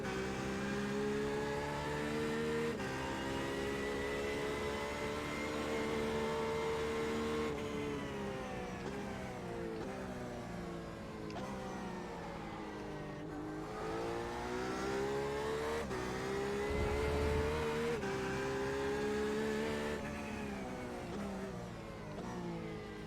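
A race car engine in the iRacing video game, running steadily and fairly loud throughout, with its pitch rising and falling as it revs and shifts down through the gears, chirping the rear wheels on downshifts.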